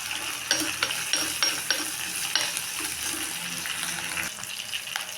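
Okra and small onions are sautéed in a pan for a fish kulambu, with a steady frying sizzle broken by repeated clacks and scrapes of a spoon stirring close by, and no voices.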